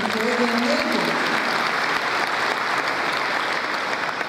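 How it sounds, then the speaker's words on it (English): Steady applause from a sizable crowd at a university graduation ceremony, dense and continuous clapping that holds its level throughout with a faint murmur of voices underneath. "Let us give them a round of applause, ladies and gentlemen."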